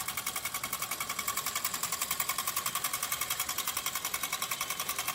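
A small solar heat engine from a student hackathon project runs steadily, giving a fast, even mechanical chatter with a regular beat, close and continuous with no talking.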